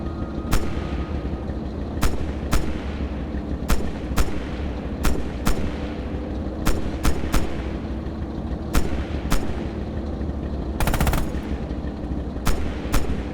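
Gunfire in the Red Orchestra 2: Heroes of Stalingrad World War II game: sharp single shots crack at irregular intervals, with one short rapid burst, over a constant low engine rumble.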